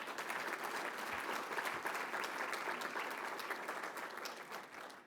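Continuous audience applause fills a conference hall at an annual meeting's award ceremony, a dense wash of many hands clapping at steady loudness that eases slightly near the close.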